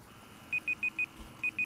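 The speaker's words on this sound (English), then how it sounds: "my timer again went off" A series of short, high electronic timer beeps in Fortnite, in quick pairs, four then two after a brief pause, sounding close and clear over a quiet background.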